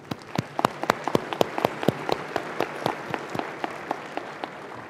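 Audience applause at a university fall commencement ceremony, with moderate, scattered clapping of crisp individual claps spread through a large hall, fairly steady and without speech.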